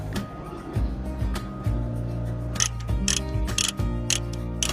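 A trailer's hydraulic dovetail rising for transport after an excavator is loaded, giving a steady mechanical whine with ratcheting clicks and a few sharper clanks toward the end, close and moderately loud.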